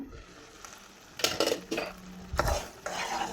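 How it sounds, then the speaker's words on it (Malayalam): A lid lifts off a pot of fenugreek payasam with rice cooking on the stove, giving a few metallic clanks and scrapes of lid against pot rim amid a low bubbling hiss, moderately close and without talk. "ഇത് മൂടി തുറന്ന് നോക്കാം."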